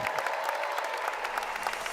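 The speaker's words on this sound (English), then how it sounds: "Give us a round of applause." An audience at a RootsTech general session claps in a brief, moderately loud burst of many hands, with faint crowd voices beneath.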